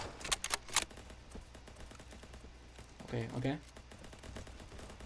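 Gunfire in the video game Ancient Warfare 3: a quick burst of sharp shots at the start, then quieter scattered shots, with a player talking over the battle.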